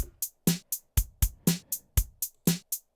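Drum pattern played with iHinny parallel compression engaged, punchy kick and snare hits alternating with crisp hi-hat strikes in a steady, tight groove, each hit clean with short decay.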